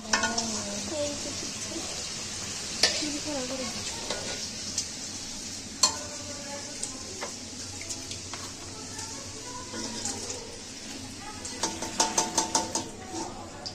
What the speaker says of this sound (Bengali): তো গাইস আমরা এখানে পিঠে ভাজছে।